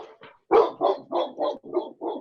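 A dog barks six times in quick succession, loud and close, over the line of a city council meeting held by remote call, following a brief murmur of a voice.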